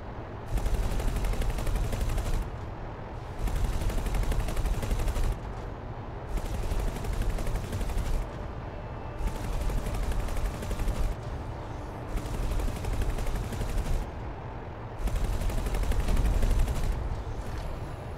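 A plasma turret mounted at the front of a ship in the space game X4 fires in repeated loud bursts, each about two seconds long, separated by short gaps over a steady engine hum.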